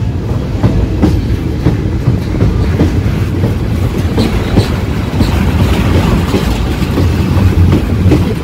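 The Silchar Express, a long-distance train, rolls along the rails with a loud, continuous rumble and rhythmic clickety-clack of wheels over joints, heard from on board and steady throughout.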